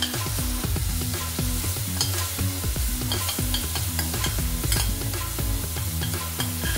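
A spiced green chili thecha mixture sizzles loudly in a hot pan while a spoon stirs and scrapes it in repeated quick strokes, close up and with no voice.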